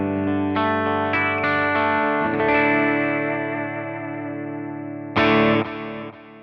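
An electric guitar on the bridge pickup runs through an amp profile, sustained overdriven chords and notes ringing out, then a fresh strum near the end, loud and alone.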